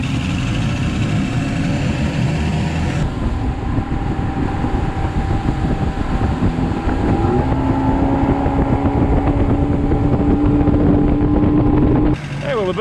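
A 1982 Glasstream boat with a Chrysler 100 hp outboard, carburetors freshly adjusted, runs steadily and loud throughout, engine drone climbing in pitch midway as it speeds up, with wind buffeting the microphone.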